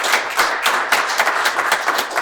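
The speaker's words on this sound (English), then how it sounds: "can you help me like applaud them for being here?" A book-talk audience claps for just over two seconds, a close, fairly loud flurry of hands with no voices.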